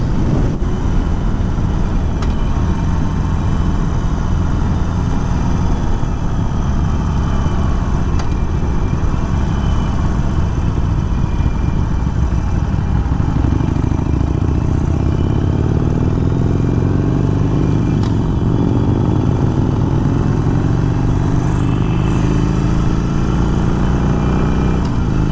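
Harley-Davidson Iron 883 motorcycle engine running steadily and loud throughout, a deep rumbling idle-to-cruise drone that rises in pitch partway through as the bike accelerates, with no talking.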